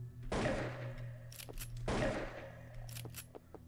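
Two sharp shots fired at an object in the video game Anglerfish, each a loud punchy burst with a short ringing tail, spaced about a second and a half apart, with faint clicks between them.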